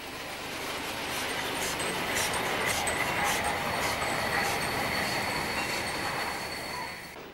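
Steam special train hauled by locomotive 78468 of class 78 rolls past on a railway in the Siegen area in December, a steady wide rumble with wheel squeal and faint high clicks and whines throughout.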